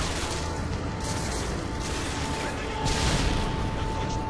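Grenade blast in the shooter video game Modern Rambo 2: a dense, loud burst of noise amid continuous gunfire and action, swelling toward the end, with no clear separate boom standing out.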